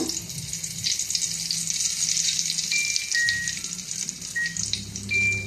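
Hot oil sizzles and crackles steadily as eggplant slices fry, bright spattering pops over a low hum of the kitchen.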